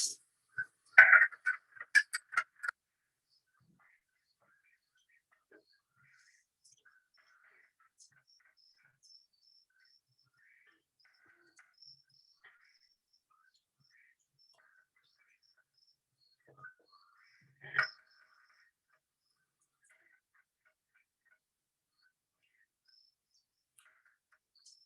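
Mink frogs call in Maine with short hollow knocks like wood being tapped, a quick burst of clicks at first, then near silence with a few faint taps and one later cluster.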